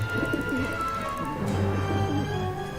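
Pigeon cooing in the video game Syberia: The World Before, soft repeated low coos under a steady ambient hum, with faint background sounds.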